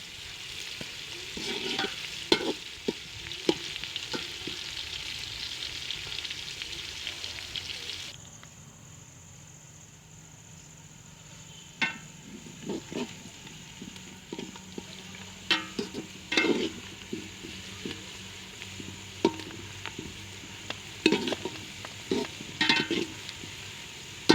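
Onions frying in hot ghee for chicken pulao: a strong sizzle that drops off partway through, then quieter frying punctuated by scraping and clinking stirs of a spoon against the pot.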